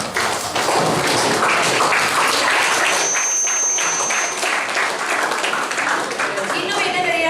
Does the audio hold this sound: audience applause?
yes